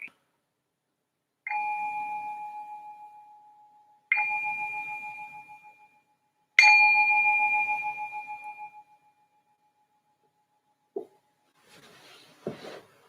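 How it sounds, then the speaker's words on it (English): A meditation bell is struck three times at spaced intervals. Each strike rings clear and bright, then fades slowly. A few soft knocks follow near the end. "ring the bell to signal the start of our second meditation"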